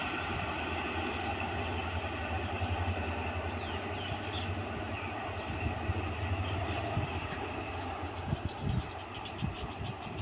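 A crude oil freight train rumbles past at a steady pace, wheels clicking over rail joints with metallic squeals, heard from trackside at moderate distance.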